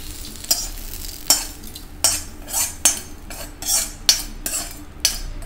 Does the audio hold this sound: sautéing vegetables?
yes